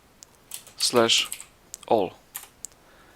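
Keys clatter on a computer keyboard in quick bursts, typing a command into the Windows 10 command prompt; a cluster of close, crisp clicks, a pause, another burst, then scattered single taps.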